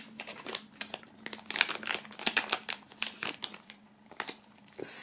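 A plastic bag of stickers crinkles and rustles close up as it is opened, with irregular bursts of crackling for several seconds and no talking.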